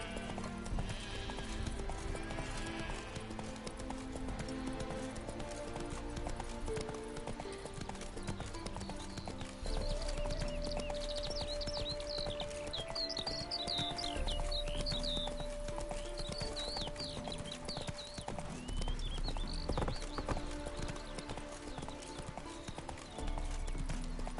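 A horse gallops in the Witcher 3 game, its clip-clop hoofbeats running steadily over a busy game soundscape, with occasional neighs and faint background voices.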